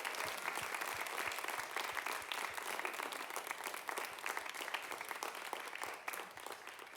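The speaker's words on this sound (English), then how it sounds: "maybe we can just finish with a round of applause for Rebecca and all of her work" Sustained audience applause closing an academic animal studies conference keynote, a steady wash of many hands clapping at moderate distance that holds level for about six seconds and then begins to thin out.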